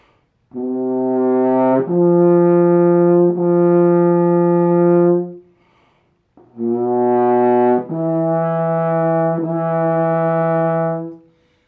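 Two sustained French horn phrases from a valve exercise, each starting low then stepping up to a steady held tone, with a short gap between them; clear, close and without talk.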